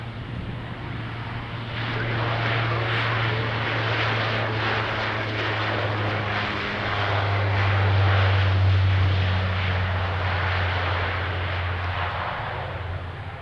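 A propeller airplane takes off from runway 20, its engines giving a loud, continuous drone with a strong low hum that swells toward the middle and keeps going to the end.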